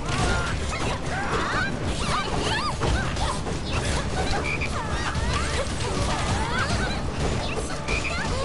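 Frogs croak repeatedly in the video game Dragon's Crown Pro, busy rasping calls scattered throughout amid constant clattering combat noise and impacts.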